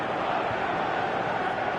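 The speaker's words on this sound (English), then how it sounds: "you can hear how the crowd are reacting to this too" A football crowd reacts to a near miss with a steady roar of massed voices, loud and sustained throughout without clear peaks.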